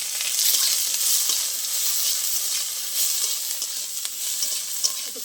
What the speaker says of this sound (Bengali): একটু পেঁয়াজটা ভালো করে ভেজে নেবো আমি।